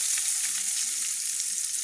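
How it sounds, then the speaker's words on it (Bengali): Eggplant slices frying in oil in a karahi, a steady bright sizzle that holds evenly loud throughout, with no talking. "সেমভাবে আমি এই 4টে বেগুনও আমি ভেজে নিচ্ছি"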